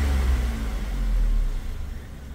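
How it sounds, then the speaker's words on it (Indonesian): Motorcycle engine idling smoothly at around 700 RPM after a Blackcore carbon cleaning, a steady low hum close by that softens and drops slightly toward the end, with no talking. "Mesin super halus hanya terdengar suara injektor saja."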